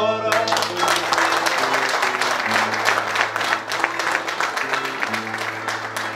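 An audience at a folk singing festival on Santa Maria Island applauds a visiting singer with sustained, dense clapping, while an instrument plays over it.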